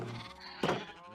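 A sheep in the Minecraft video game bleats once, short and fairly close, after a moment of quiet game ambience.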